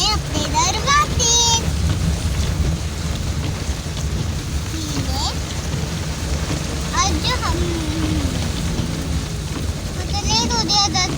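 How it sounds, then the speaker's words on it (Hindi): Heavy rain in Islamabad pours in a dense, constant wash with a rumbling low undertone, while voices talk over it now and then. "बारिश हो रही है बहुत तेज"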